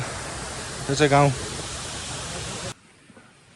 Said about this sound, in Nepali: झर्नाको पानी टक्क तल बगिरहेछ